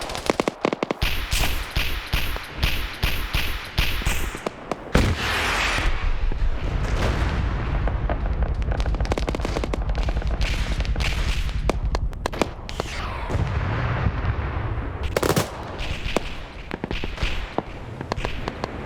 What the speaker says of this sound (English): Oh, that is a BMP turret. I don't know what it's firing at over there